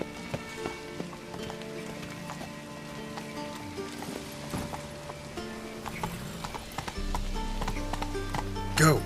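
Roach the horse trotting in The Witcher 3 video game, hooves clip-clopping at a steady rhythm over a continuous musical score, with a brief louder burst at the very end.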